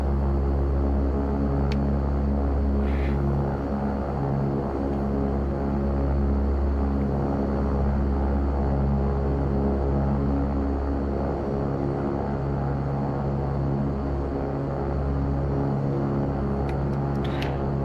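A King Air 350 turboprop taxis in the X-Plane 12 flight simulator, a steady droning engine hum with a low rumble that holds even throughout, with no voices.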